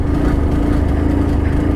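A struggling carbureted Suzuki Gixxer motorcycle engine runs with a loud, steady low drone and a slightly uneven pulse, heard close and alone without speech.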